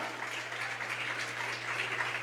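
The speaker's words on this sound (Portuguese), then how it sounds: "Você pode aplaudir o Senhor?" A church congregation applauds at a worship service, a faint but steady patter of clapping over a low electrical hum.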